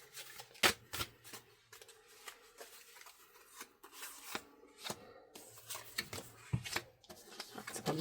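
Oracle cards shuffled by hand, a series of quick, crisp riffling flicks and soft sliding rubs at close range, irregular bursts with brief pauses between them.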